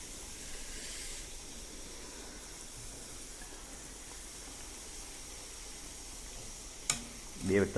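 Puri frying in hot oil in a home kitchen, a steady soft sizzle and hiss throughout, with a few brief clinks and bumps near the end.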